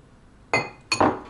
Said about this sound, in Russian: Берем ложку, перемешиваем.